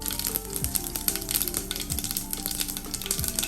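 Mustard seeds popping in hot oil for yam thoran, a dense rapid crackle of tiny sharp snaps over an even frying hiss. Close and steady throughout, with no talking.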